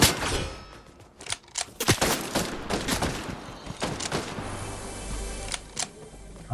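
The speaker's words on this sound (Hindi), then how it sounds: "ले गोलियां भी चलने लग गई।" Bursts of gunfire from a Fortnite Zero Build match, with rapid clustered shots and sharp single cracks spread unevenly across the stretch, loud and close, with no talk over them.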